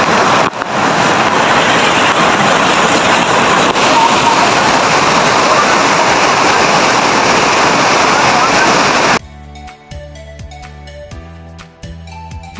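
Mayabi waterfall in Sylhet roars as a loud, steady broadband rush for about nine seconds, then cuts abruptly to quieter music-like tones.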